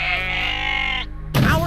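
A goat bleats in the video game I Am Jesus Christ, a single drawn-out nasal bleat lasting about a second, followed by a short burst of another sound.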